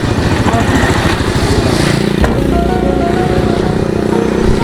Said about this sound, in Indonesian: Oh, motor bobrok.